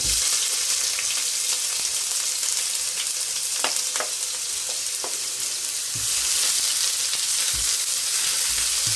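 White onions frying in hot olive oil make a continuous dense sizzle close by, broken by scattered small pops and crackles, with no voices.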